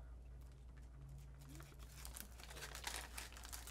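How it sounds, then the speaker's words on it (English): A thin snack wrapper crinkles softly in quick, close rustling bursts, faint and with no voices. "it comes in this little wrapper"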